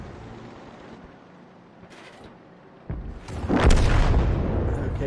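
A tank shell striking its target in a tank battle video game, heard as a sudden loud boom at about three seconds that swells into a sustained, rumbling blast lasting to the end over a quieter background.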